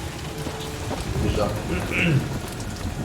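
Steady heavy rain pours on a planet in the Guardians of the Galaxy video game, a dense constant hiss with faint distant rumbles and a brief spoken word over it.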